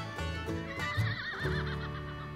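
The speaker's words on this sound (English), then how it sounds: "Do you know the sounds horses make?" A horse neighs up close, a wavering whinny rising and trembling over about two seconds with a low snort at the start.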